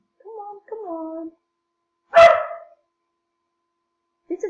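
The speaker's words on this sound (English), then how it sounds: "This is my dog." A single loud dog bark or yelp rings out close by in a quiet room, after a voice speaks briefly, with another short vocal sound at the very end.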